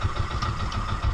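A boat engine idles at night during a spearfishing trip off the Philippines, with a loud, close, continuous low rumble and a steady pulsing throb and no speech.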